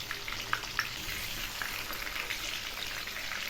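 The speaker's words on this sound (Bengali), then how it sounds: "এই মাছগুলো আমি একটু হালকা করে ভেজে নেব" Hilsa fish pieces frying lightly in hot oil, a steady dense sizzle with a few sharp pops and crackles near the start, continuous and fairly close with no voices.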